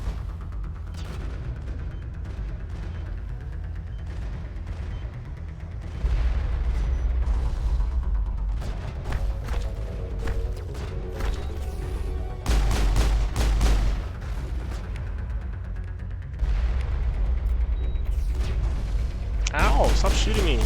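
Gunfire in the Mass Effect video game, bursts of shots and impacts in an ongoing firefight with loud booming stretches, while a player's voice talks over the action.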